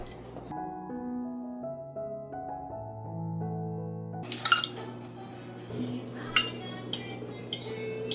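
A utensil mixes cookie dough in a bowl for a home baking batch. After a stretch of soft background music, irregular light clinks and scrapes come in, close and fairly faint, with the music continuing underneath.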